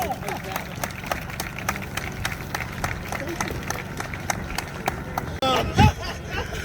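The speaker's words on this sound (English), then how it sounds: "Give them a round of applause." Audience applause at a walk of fame induction ceremony for a vocal group in Atlantic City, sharp individual claps in a steady patter with crowd murmur, ending in a brief louder burst near the end.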